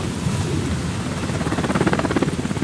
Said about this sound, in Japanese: カモフ設計局の輸送ヘリ